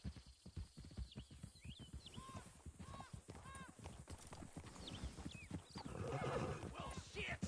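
Horse in the video game Red Dead Redemption 2, with repeated clip-clop hoofbeats and several sharp whinnies over a busy game soundscape, while someone talks throughout.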